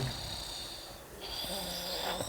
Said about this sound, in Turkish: Horluyorsun aşkım, horluyorsun ya.